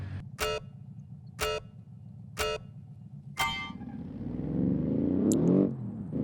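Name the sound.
car engine rumble in BeamNG video game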